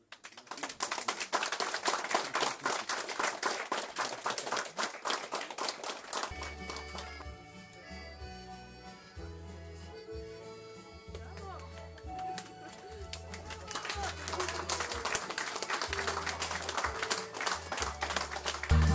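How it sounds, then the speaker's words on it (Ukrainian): Wedding guests break into dense, close applause that fills the opening seconds, then fades under a thumping music beat before the clapping swells back up loud to the end. "Костя, давайте под аплодисменты все."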